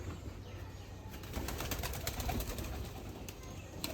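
Pigeons coo softly and steadily in a loft with eggs and newly hatched chicks, with wings fluttering now and then over a constant low rustle of the flock.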